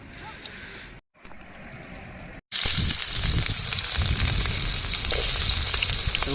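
Curry frying in a pan over an open wood fire on a riverbank gives a loud, steady sizzle that bursts in after a brief gap and keeps crackling close by to the end.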